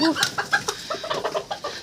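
A large rooster clucks in a quick run of short, evenly spaced calls, close and fairly loud, with no talk over it.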